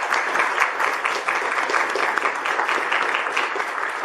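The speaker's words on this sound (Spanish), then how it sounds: "pido un aplauso para ambos ponentes" Audience applause at a Christian apologetics faith-dialogue event after a debate on historical arguments about Jesus and Muhammad: dense, steady clapping from a full room, sustained and fairly loud with no pauses.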